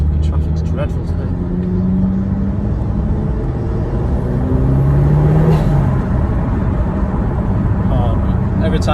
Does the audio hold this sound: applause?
no